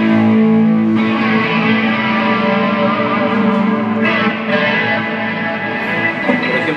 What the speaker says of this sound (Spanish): el canal 3, que es el canal que estoy ocupando con una semi distorsión, algo suavecito